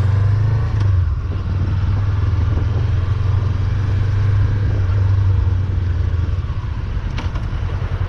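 A motorcycle engine runs at low speed during a slow U-turn exercise on a licence training course, giving a steady, close, low rumble that holds throughout with little change in pitch.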